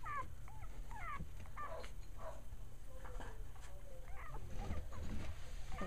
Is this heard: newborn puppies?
yes